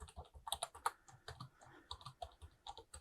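Someone types a block name on a computer keyboard while setting up a Siemens S7-1200 PLC program, producing quick, irregular key clicks close by over about three seconds with no talking.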